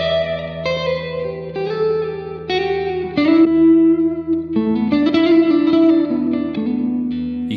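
Electric guitar played through a Fender '63 reverb pedal, a run of sustained, distorted chords and notes changing every second or so, each ringing with a wet spring-style tail, loud and close with no voices.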